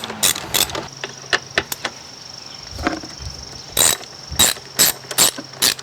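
A ratchet loosens 10mm bolts on the air filter housing of a 2008 Hyundai Elantra, close, crisp clicking in short bursts with pauses between turns.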